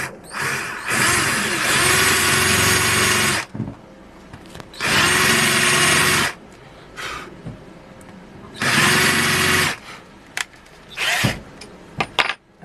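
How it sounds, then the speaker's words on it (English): A power drill with a larger bit countersinking a screw hole whirs in three long bursts with short pauses between, close and loud, followed by a few brief clicks and taps. "we're going to put a bigger drill bit in to countersink it,"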